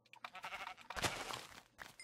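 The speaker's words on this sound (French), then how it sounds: "Oh, bah tiens, je me plaignais de moutons. Il y en a partout." Sheep bleating close by in a noisy farmyard, several short wavering calls overlapping amid shuffling and rustling, with no speech.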